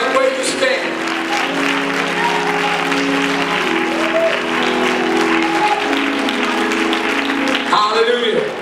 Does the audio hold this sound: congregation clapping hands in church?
yes